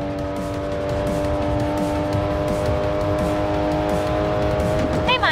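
A race car engine in the mobile racing game Racing Master drones at a steady high pitch under continuous road and tire noise, loud and close, with a brief rising squeal near the end.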